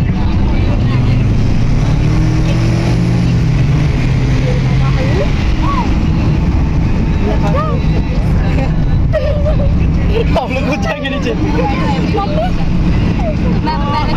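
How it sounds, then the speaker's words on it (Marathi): A vehicle drives along the ghat road near Matheran, its engine and road rumble steady and close from start to finish, with people chattering over the drone. "अशी गाडी चालते ना मित्रांनो, एक नंबर."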